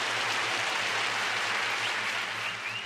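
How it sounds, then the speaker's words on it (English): An applause sound effect fires during a game event test for an RPG: a steady wash of clapping, fairly faint and continuous throughout, with a low hum underneath. "let's test it with applause."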